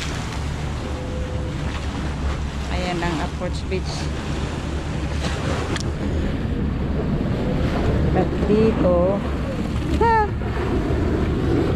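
At high tide, strong waves rush against the shore at Ting Kau beach under steady wind buffeting the microphone, as people talk nearby and a boat moves in the water.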